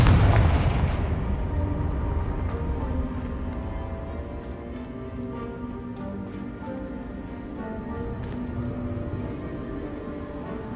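A booming Confringo blasting-spell explosion in Hogwarts Legacy, a loud deep blast at the start that rumbles and decays into a long, echoing tail with scattered crackles.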